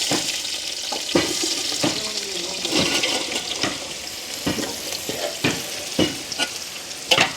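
Onions fry in a pot and are stirred over and over, a constant sizzle broken by regular sharp scrapes of the spoon against the metal.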